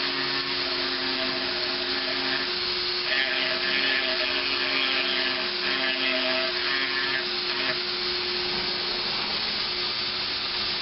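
A rotary tool fitted with a diamond bit carves an ivy vine pattern outline, giving a steady, continuous high-pitched whine that holds close and even for about eleven seconds, with a slight change in tone partway through.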